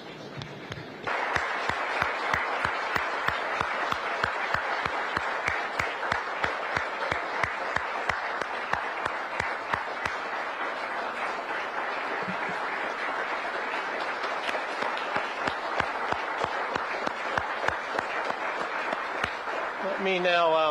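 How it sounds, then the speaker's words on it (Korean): Standing audience applauds the South Korean president at a think-tank speech event, sustained loud clapping from a large crowd, with an announcer's voice over it near the start and end. "여러분 일어나셔서 큰 박수 부탁드리겠습니다"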